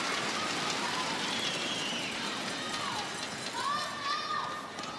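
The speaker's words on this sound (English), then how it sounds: "Now the crowd get going." A netball crowd at an ANZ Championship match between the Magic and the Pulse keeps up a steady, hissing wash of cheering and noise, with a commentator talking over it.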